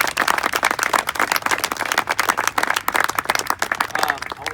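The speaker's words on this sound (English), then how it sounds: "So let's give one more round of applause for you." A lively round of applause from a baseball team gathering at a spring awards presentation, dense sharp clapping that carries steadily for several seconds and sounds close and loud.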